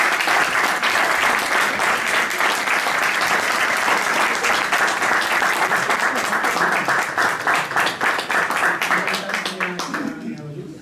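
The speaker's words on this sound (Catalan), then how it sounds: "un aplaudiment" Sustained applause from a crowd honouring a music school band at a village band event, dense clapping throughout that thins out near the end, with some voices mixed in.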